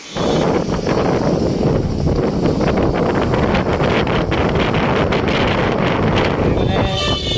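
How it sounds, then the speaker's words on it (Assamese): Wind roars constantly across the microphone of a motorbike riding a rough off-road track in hot weather, a loud, unbroken buffeting rush that drowns out everything else. "আৰু গৰমৰ মাজত এনেকুৱা বতাহ"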